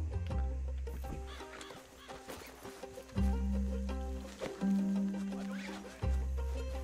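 A horse in Red Dead Redemption 2 neighs and whinnies several times, loud and close, with hoofbeats and a brief voice between the calls.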